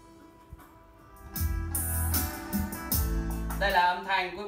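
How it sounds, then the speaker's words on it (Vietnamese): Music played back through a DAC and an audio filter, a low, full bass-heavy passage swelling in after a quiet start and carrying on steadily with brighter tones near the end. "Đây là âm thanh quý vị đang nghe thông qua giải mã và thông qua lọc âm thanh."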